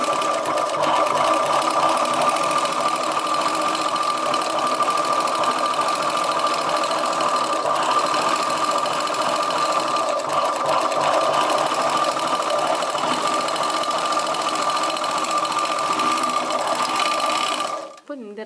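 A sewing machine stitching a chudidar top hums and rattles in one continuous loud run for about eighteen seconds, then stops abruptly.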